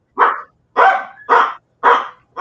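A dog barks in a steady series of four or five loud, close, evenly spaced barks with short silent gaps between them.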